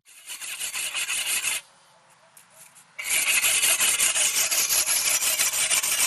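A whetstone rasps along a scythe blade in steady back-and-forth strokes, loud and close, in two bursts separated by a brief quieter pause.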